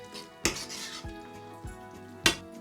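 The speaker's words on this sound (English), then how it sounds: "And I move the pasta in my sauce. I mix it all together" Linguine being tossed and stirred into tomato sauce in a pan, with a few sharp metallic clanks of utensil against pan over a soft continuous stirring and faint sizzle, close and moderately loud.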